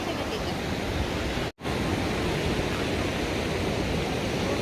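Loud, continuous rushing of a flowing river in Kutaisi, Georgia, broadband and steady, with a momentary dropout partway through.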